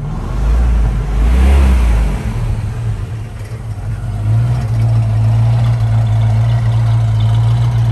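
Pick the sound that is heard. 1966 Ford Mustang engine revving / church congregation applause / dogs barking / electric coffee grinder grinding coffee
1966 Ford Mustang engine revving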